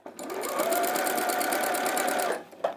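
A sewing machine runs steadily for about two seconds of continuous stitching, close and fairly loud, then stops, followed by a brief clack.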